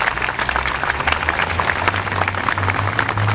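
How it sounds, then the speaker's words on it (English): An audience applauds for students at a university reception, with steady, dense clapping filling the room throughout. "let's all join in a round of applause for our students"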